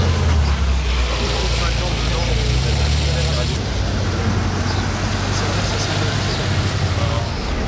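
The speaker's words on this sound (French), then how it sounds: "Le joli petit convoi de Porsche là." A convoy of Porsches, including a GT3 Touring and a GT3 RS, drives past in a steady loud wash of engine and road noise that shifts midway, with people talking over it.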